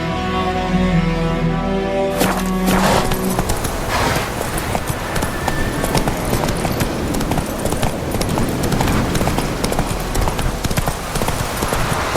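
Hooves of Roach, a horse in the video game The Witcher 3, beat in a fast, rhythmic galloping clip-clop that runs loud and close for most of the stretch after an opening moment of music and a sharp start.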